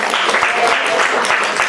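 Audience applause at a book presentation held in a wine bar, dense sustained clapping with sharp individual claps, loud and continuous throughout.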